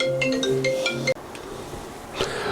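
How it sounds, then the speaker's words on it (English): A phone's ringtone for an incoming call plays a short melodic electronic tune for about a second, then cuts off, leaving steady room noise behind. "somebody's calling me on the phone"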